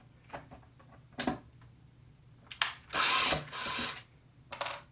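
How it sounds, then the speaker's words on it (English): Screws are worked loose on a Yamaha P45 digital piano, with short scraping twists and clicks, then a longer louder grinding burst and a final brief rasp, close and with no talk. "Let me try to unscrew this area."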